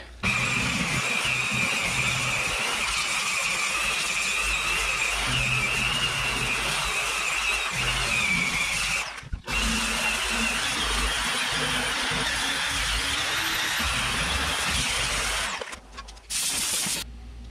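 Paint being stripped off a dented car panel with a power tool, a loud continuous whirring grind with a high squeal that runs almost unbroken and pauses briefly near the end.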